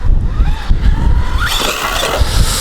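The small motor of a ZD Racing 08425 1:8 off-road 4x4 RC buggy whines and revs up and down over rocks, with gusty wind buffeting underneath and rattling thumps.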